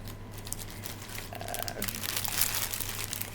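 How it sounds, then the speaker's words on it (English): Crinkling plastic packaging around thread loops from a craft store, a close, continuous soft rustle and crackle over a faint background hum. "sorry for the crinkling, a few, it's loops and thread"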